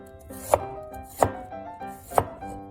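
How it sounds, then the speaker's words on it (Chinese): A knife slices garlic and ginger on a board while preparing Cantonese pan-fried pork ribs: three crisp, close cuts land at an even, unhurried pace, with a soft steady tone running underneath. "蒜头和姜都切片"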